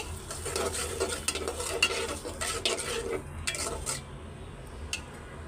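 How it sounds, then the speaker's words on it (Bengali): Spice paste of chilli and ground masala is stirred and fried in oil in a pan, with a continuous soft sizzle under scraping and clinking of a spoon against the pan, close by and with no talking. "দিয়ে ভালো করে কষাই নিব, সুন্দর করে তেলের উপরে কষাই নিব।"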